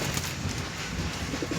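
Pigeons coo continuously nearby, soft throaty burbling calls that overlap with one another over a steady background.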